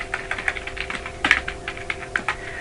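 Rapid typing on a computer keyboard, close and clear, with uneven bursts of key clicks and a few louder taps, no talking.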